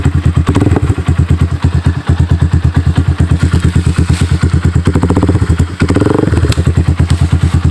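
A Rusi Classic 250 motorcycle engine runs close and loud with a fast, even thumping pulse, rising and falling as the throttle is blipped a few times.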